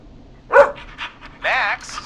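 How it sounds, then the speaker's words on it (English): Max, a rescue dog in the video game Killer Frequency, lets out a sharp bark followed by softer yips and a whining, drawn-out vocal sound, close and clear over quiet background. "Max is my emotional support dog."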